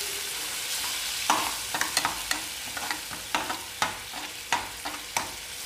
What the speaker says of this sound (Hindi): इसको अच्छे से गैस को स्लो कर देंगे और इसको अच्छे से हम चलाते रहेंगे